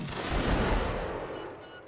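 A volley of gunfire in a Napoleonic-style line battle game, a loud, rolling crackle of many muskets firing together that swells and slowly fades into a low rumble.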